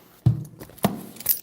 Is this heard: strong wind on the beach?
no